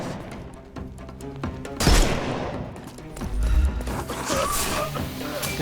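Gunfire breaks out in the Sherlock Holmes: Chapter One game in Hive gang territory: two loud bursts of shots and booms a second or so apart, with voices and background game sound around them.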